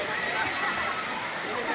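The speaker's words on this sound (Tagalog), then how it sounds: "flowing water na kay Cold Spring man." Water flows steadily at a cold spring pool on Camiguin, a dense continuous rushing hiss at constant loudness throughout, close by, with no distinct voices standing out.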